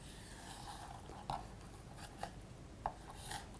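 A knife slicing a fish fillet along the bones and belly skin on a kitchen board, quiet soft scraping with three or four distinct small cuts standing out, close and without talk.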